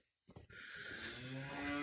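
Cattle mooing close by, a long drawn-out low call rising in pitch after a brief clatter, with other animals lowing underneath.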